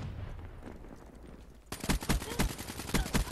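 Rapid automatic gunfire bursts out in a Black Ops 3 multiplayer match on PS4. The shots are loud, dense and crackling, starting abruptly after a quieter opening stretch and continuing to the end.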